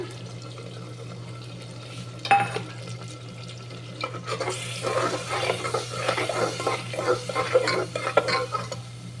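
Water and spices stirred in a pan while cooking spinach and soybeans, with scraping and sloshing stirs that grow busier partway through over a steady low hum, no talk.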